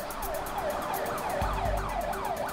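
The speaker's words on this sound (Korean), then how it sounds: "이른 시간부터 쉼없이 들어오는 구급차." An ambulance siren wails continuously in a rising and falling pattern, loud and fairly close, with a low vehicle rumble underneath, arriving at a university hospital emergency room in South Jeolla, South Korea.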